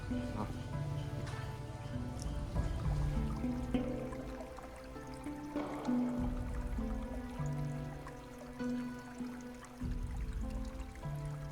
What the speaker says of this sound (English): The only sounds are of water and oars, creating a feeling of slow time.